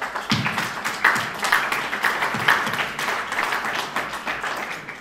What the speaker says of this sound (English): So let's have a hand of applause.